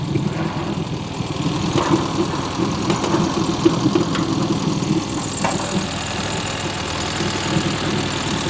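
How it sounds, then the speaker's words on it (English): A 1997 Rover Mini Cooper's A-series engine with single point injection idles under an open bonnet, a steady, moderately loud rumble with a faint rhythmic knock running throughout. "The usual A-series engine"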